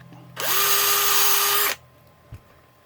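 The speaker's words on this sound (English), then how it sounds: "I run a reamer through there to clean that up" A reamer driven by a power drill cleans out the bore of a Loadertools shotgun shell trimmer, giving one steady, loud high whine of about a second and a half that starts and stops abruptly, close by, with no talk.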